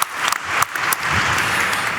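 An audience at a chemicals industry conference applauding, starting with a few sharp separate claps and swelling into sustained, fairly loud, even clapping.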